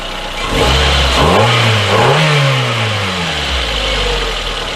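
A car engine fires up after new spark plugs and push-down plug leads are fitted, then revs up and down with a loud, close mid-pitched drone before settling toward idle, no voices.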